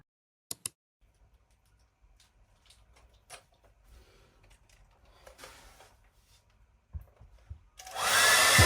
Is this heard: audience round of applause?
no